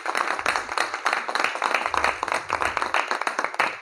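Audience at a direct selling motivational event clapping, a dense burst of rapid, uneven claps that continues steadily throughout, loud and close.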